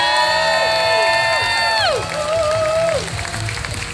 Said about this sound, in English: Give them a cheer, folks.